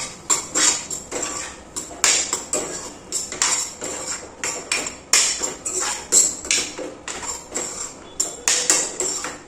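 A spoon scrapes and clinks against a metal pan while boiled black chickpea masala is stirred, producing irregular, fairly loud metallic taps and scrapes in quick succession, with no talking.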